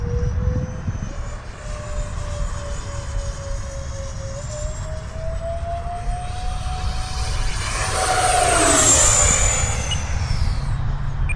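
A Freewing Mirage 2000C V2 RC jet with an 80mm electric ducted fan screams past at full throttle, its loud whine climbing in pitch as it approaches and then dropping sharply as it races by overhead.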